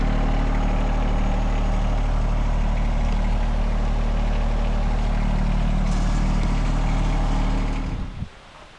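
A tractor engine idles steadily and loud nearby, a deep low rumble with constant harmonic drone, cutting off abruptly near the end to leave faint background.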